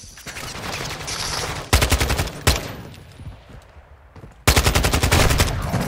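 Bursts of automatic gunfire in Call of Duty Modern Warfare 2 on the OSP Gunfight map, loud and close, with a sharp long burst, a single crack, then another fast rattling volley after a lull.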